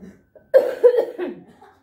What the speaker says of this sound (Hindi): और बहुत खांसी हो रही है